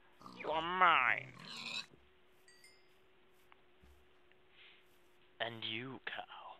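A Minecraft pig grunts under a low background hum, with a person talking quietly before and after the snorting sounds.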